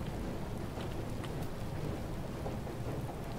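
Steady thunderstorm downpour in the survival game FAR: Changing Tides, a dense, continuous hiss of heavy rain with low rumbling underneath, loud and even throughout with no voices.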